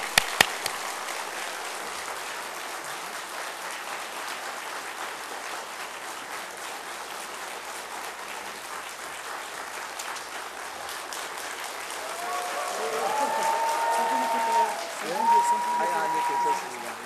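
A large church congregation claps steadily for a long stretch at an evening service, dense and even, with a voice calling out near the end as the applause continues.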